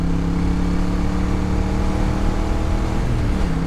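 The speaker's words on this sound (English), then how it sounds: "I've literally forgotten how fucking good this bike sounds." A motorcycle engine revs steadily and loudly up close, a continuous throaty drone with rising harmonics near the end and no talk over it.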